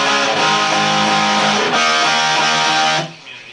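Distorted electric guitar power chords from a song, chugged in a steady strummed rhythm, loud and close, stopping abruptly near the end.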